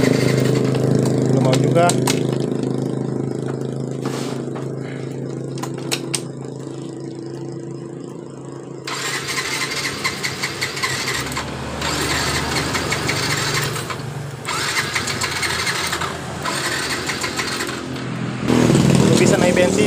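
A Yamaha Fino scooter with a rough-running engine cranks and sputters, then catches into an uneven, loud running note with brief dropouts, while someone talks over it.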